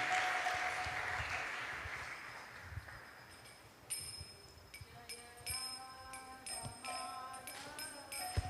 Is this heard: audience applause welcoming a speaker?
yes